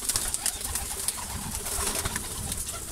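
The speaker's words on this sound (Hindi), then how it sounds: "एक नया बंदा जब आता है तो कबूतर जो है सारे वो कोनों में चले जाते हैं।" High-flyer pigeons coo softly in a loft, with soft overlapping calls over a constant rustle and flutter of wings close by.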